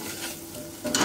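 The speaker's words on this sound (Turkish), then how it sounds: "Unun kokusu çıkana kadar kavuruyorum." Flour being roasted in butter in a pot on a stove, a soft steady sizzle with faint stirring that swells louder near the end.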